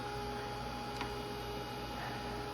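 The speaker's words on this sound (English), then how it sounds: "I love this blow dryer." Heat It craft heat tool, a quiet blow dryer, running steadily with a soft constant hum and airy hiss, close and unchanging with a faint tick partway through.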